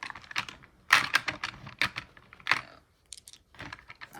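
Tarot cards being shuffled by hand, a string of crisp papery riffles and flicks in uneven bursts, close and fairly loud, with short pauses between, no talking.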